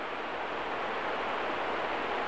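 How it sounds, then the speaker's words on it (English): Humber River stream water at Raymore Park in Toronto washing over rocks, an even, close rushing and rippling hiss that holds steady and unbroken through a short stretch. "wandering over the rocks, making that rippling sound."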